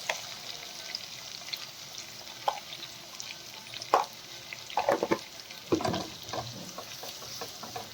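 Vegetables with tomato roast in oil for upma, giving a soft sizzle under intermittent scraping and stirring strokes of a spoon in the pan, fairly close and moderately quiet.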